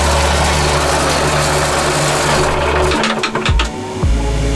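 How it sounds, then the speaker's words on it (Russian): Right-hand engine on a Princess 50 motor yacht running at a loud steady idle with a low drone, then faltering briefly near the end with a few uneven knocks before settling back into idle. "Алексей, давай пусканем мотор, пускани правый мотор, Сенька."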